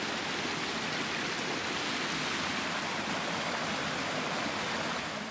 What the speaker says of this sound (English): Washing up for dinner in our creek.